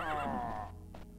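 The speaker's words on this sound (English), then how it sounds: "Why do they make horse noises?" Centaurs in the Elder Scrolls: Daggerfall video game let out a single horse whinny, a loud, close neigh with wavering pitch that fades quickly into brief game background sound.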